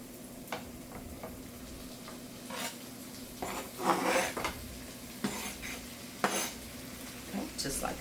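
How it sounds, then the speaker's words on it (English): Steak for a Philly cheese steak goes into a hot pan, with scattered metallic clatter and soft sizzling bursts over a steady kitchen background. "this is a good time to throw in your steak. I could throw my steak in right now."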